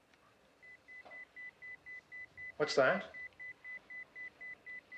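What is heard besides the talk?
pager beeper beeping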